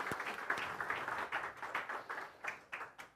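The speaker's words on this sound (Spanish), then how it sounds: "Un aplauso para los diáconos que sirven." A church congregation applauds its serving deacons during a Spanish-language sermon, with fairly close, energetic clapping that pulses in uneven bursts for about three seconds.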